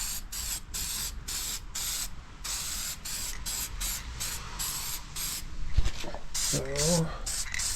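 Spray from an aerosol can is applied in bursts to an LS9 head gasket as the can starts to run empty, with steady hissing pulses close up and a voice briefly heard near the end.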